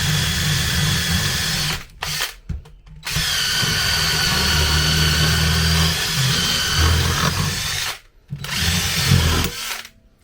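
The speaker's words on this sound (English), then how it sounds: "So what I'm actually doing is I'm drilling the bush out" A power drill whirs loudly in several sustained runs, drilling out a rear suspension bush on an Audi TT Mk2, stopping briefly between bursts, close up with a steady grinding tone.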